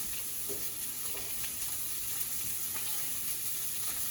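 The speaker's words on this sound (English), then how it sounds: "we place the sausages in the cast iron frying pan, gonna let them get a little brown" Constant, close sizzling of sausages browning in a cast iron frying pan, an even crackling hiss with occasional pops and no talking.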